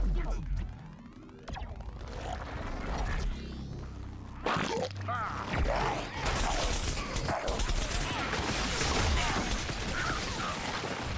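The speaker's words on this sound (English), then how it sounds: "Yikes, they're already shooting." Rapid gunfire and clattering impacts from the shooter game Plants vs Zombies Garden Warfare 2 sound almost continuously, dense and loud, with sharp crashing bursts mixed in.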